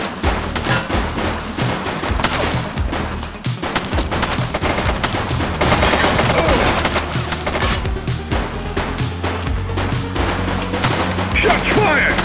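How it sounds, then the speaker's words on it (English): Dense, sustained gunfire fills a shootout against gang members in the video game The Precinct, with overlapping rapid bursts and booms continuing loudly throughout alongside busy background game audio. "Shots fired!"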